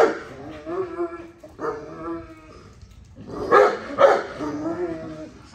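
Dog Nyla, a high-energy and aggressive dog, gives a few loud barks and yips in separate bursts, close by, with some whimpering between them.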